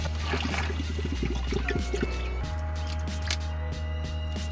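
Water is poured in a camper kitchen, a steady close pouring and trickling sound lasting several seconds with no talking.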